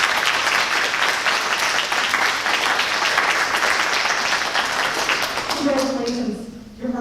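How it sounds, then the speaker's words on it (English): A large audience applauds steadily for scholarship recipients standing at a high school honors night ceremony, a dense, sustained round of clapping that fades out near the end as a voice begins to speak. "a big round of applause, please."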